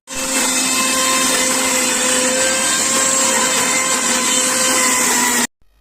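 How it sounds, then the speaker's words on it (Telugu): A kitchen mixer grinder whirs loudly and steadily as it grinds fresh henna leaves, a continuous motor drone holding for about five seconds before cutting off abruptly. "మమ్మీ అయితే మిక్సీ చేసేస్తున్నారు"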